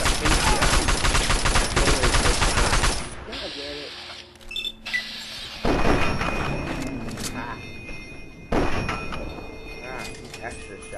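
Rapid bursts of automatic gunfire in the Fallout 3 video game, loud and close, breaking off into mechanical clanks and then resuming, with a player talking over parts of it.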